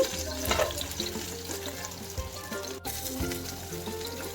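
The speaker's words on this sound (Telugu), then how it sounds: "ఇప్పుడు పైనుంచి మూత పెట్టి ఒక రెండు మూడు నిమిషాలు అయ్యేంత వరకు మీడియం ఫ్లేమ్లో ఫ్రై చేసుకోవాలి" Fish pieces frying in oil in a covered pan over a medium flame, giving a steady close sizzle with soft crackles throughout and a brief dip midway.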